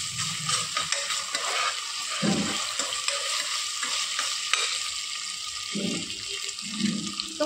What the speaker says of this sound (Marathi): आता 1 चमचा आलं लसणाची पेस्ट घालते. ती परतून घेऊ.